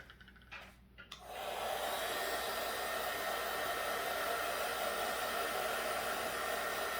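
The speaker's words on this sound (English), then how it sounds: "I'm gonna heat press it." Heat press running on a DIY Mother's Day bookmark, a steady airy whoosh that kicks in after a second of quiet and holds evenly to the end at low volume.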